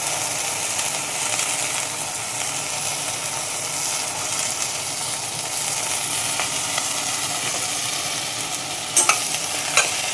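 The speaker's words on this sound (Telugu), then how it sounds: "అసలు కిటికంతా పోపు చక్కగా వేయించుకోవాలి" Tempering spices with tomato and chickpeas fry in oil for a mixed vegetable curry, a loud continuous sizzle under steady stirring, close up, with a couple of sharp utensil knocks near the end and no speech.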